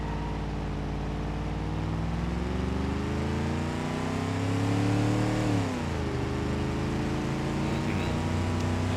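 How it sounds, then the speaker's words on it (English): A 1953 Burnside Special with a 153-horsepower V8 revs in BeamNG Drive, the engine note climbing steadily, dipping briefly, then rising again, loud and continuous throughout. "This car does, however, have a V8, and I think it was 153 horsepower."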